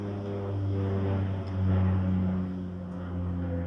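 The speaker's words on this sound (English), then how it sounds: "and another airplane." Airplane passes overhead, a steady low droning hum that swells and fades slightly, heard alone without talk.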